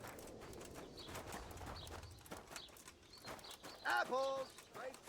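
A horse's hooves clip-clop at a walk through a medieval town in Kingdom Come Deliverance, steady quiet thuds near the rider, with a bird chirping briefly over them.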